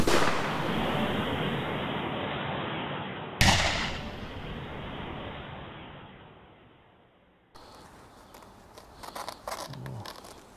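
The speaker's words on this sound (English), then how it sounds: "Grissom fires a 9mm, a .45 caliber bullet, then a shotgun loaded with buckshot" Close-range gunfire at a bulletproof vest: a 9mm pistol, a .45 caliber pistol, then a buckshot-loaded shotgun. Loud sharp blasts with ringing decay, then a weaker final report followed by scattered rattling.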